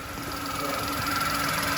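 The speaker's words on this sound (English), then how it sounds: "and the engine is running there, as you can see." Volkswagen Polo engine idling with the bonnet raised and a check engine light on, heard up close as a steady, even mechanical hum and whine with no break in level throughout.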